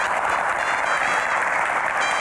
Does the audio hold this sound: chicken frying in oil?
no